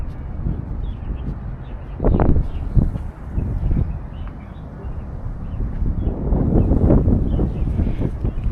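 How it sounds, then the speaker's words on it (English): Strong wind roars and buffets the microphone on Victoria Peak, Hong Kong, rising in gusts with low rumbling bursts and steady blustery noise throughout. "Very windy up here."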